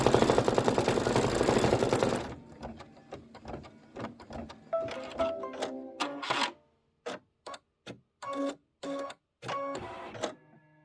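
An embroidery machine stitches eyes on a quilt block: a dense, rapid mechanical whir at first, then a run of sharp, separate stitching clicks and taps that stop and start in bursts, close and fairly loud.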